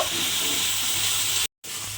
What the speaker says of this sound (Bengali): মশলাটা আমি এর মধ্যে দিয়ে দিলাম, দিয়ে এবারে নাড়াচাড়া করে একটু ভেজে নেব।